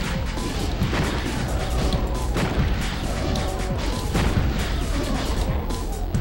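Rocket launches and explosions from the NeoDoom game fire in quick succession, a dense barrage of loud booms and crashes that runs without letup.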